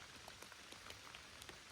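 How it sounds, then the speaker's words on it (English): Faint patter of a brief rain shower tapping on a forest mountain trail, scattered irregular drips over a soft background hiss. "but every now and again you get that shower come through."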